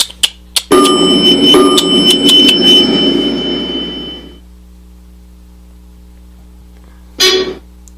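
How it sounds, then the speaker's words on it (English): A Dover elevator's electronic buzzer sounds loudly with a few sharp clicks, holds for a couple of seconds over a low mechanical hum, then buzzes briefly once more. "Beeped again, or buzzed again."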